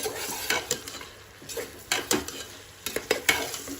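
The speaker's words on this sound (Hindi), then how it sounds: "सब चीजों को अच्छे से मैं मिक्स कर लेती हूँ" Mutton liver is mixed with coriander powder, turmeric, red chilli and kasuri methi in a bowl, with repeated close scraping and clinking strokes of a spoon, bursts of stirring separated by brief pauses.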